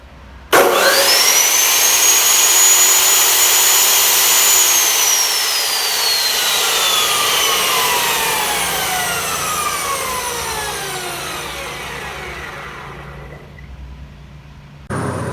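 A Bosch GCO220 chop saw, eight years in use, spins up sharply to a loud steady whine, then slowly winds down over about ten seconds as the pitch falls away, close and alone.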